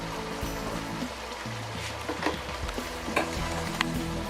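Chicken sautéing in a pan for chicken curry, its liquid cooked off, giving a soft sizzle broken by repeated scraping stirs and clinks of a spoon, fairly quiet with no talk.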